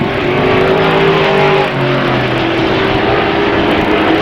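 Race cars roar around the oval at Airborne Speedway during green-flag racing, a loud continuous engine drone with layered pitches from several cars, one engine note dropping as another passes, no voices.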